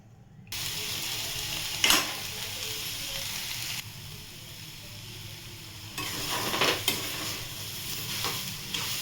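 Soybeans sizzling in butter in a kadhai while being stirred, a steady frying hiss with occasional scraping strokes and a short pause midway.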